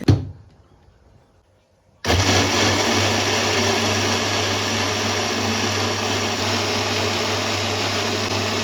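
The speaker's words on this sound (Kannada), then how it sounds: "ಕೊಬ್ಬರಿ ತೊಗೊಂಡು ಸ್ವಲ್ಪ ಕೊತ್ತಂಬರಿ ಸೊಪ್ಪು ಸ್ವಲ್ಪ ಚಿಲ್ಲಿ ತೊಗೊಂಡು ರುಬ್ಬಿ" A kitchen mixer grinding coconut, coriander leaves and green chili into chutney starts abruptly after a short quiet moment, then holds a loud, steady motor whine with a constant low hum.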